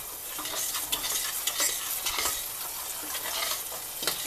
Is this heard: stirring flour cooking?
yes